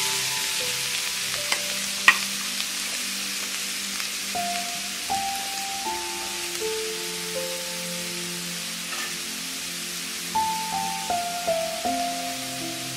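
Grated carrot, about two cups, is stirred into a pan of hot ghee, giving a steady soft sizzle and scraping of a spoon across the pan throughout, with no talk.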